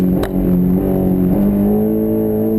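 A Honda S2000 engine on a rainy autocross course, droning steadily and loud at moderate revs with slight throttle variations, close and continuous.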